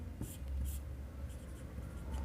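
Pen scratching out figures by hand on a ledger page in a Class 11 accounts lesson, a soft steady close-up scribble with faint background hiss and no talk.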